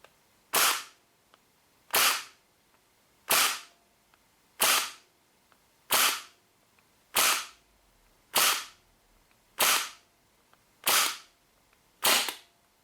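A WE P90 gas blowback airsoft SMG fires through a chronograph, ten sharp, evenly spaced single shots about a second and a quarter apart, crisp and close, with quiet gaps between each pop.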